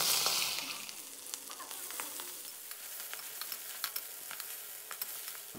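Bean sprouts stir-fried with crisp fried mussels in a pan, a soft steady sizzle broken by scattered clicks and scrapes of stirring, close and fairly quiet.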